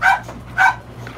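An American Staffordshire Bully dog gives two loud, deep barks about half a second apart, close by, followed by a fainter soft yelp.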